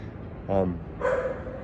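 Dogs bark twice in quick succession, two short, moderately faint yelps about half a second apart over a low background hum.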